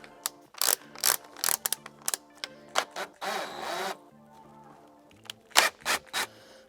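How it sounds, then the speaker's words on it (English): A screw is driven into wood with a power driver while a folding countertop extension is installed on a Revel 21, in short whirring bursts separated by pauses, with a longer grinding run in the middle. "So we'll go ahead and just slowly get this screw going."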